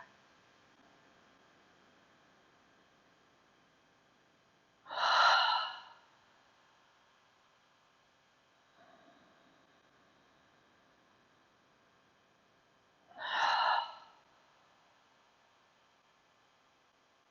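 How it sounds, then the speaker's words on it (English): Two slow, deep breaths sound close and quiet in a calm meditation setting, each a soft audible exhale through nose or mouth, separated by long silences and a faint inhale between. "inhale through your nose and exhale"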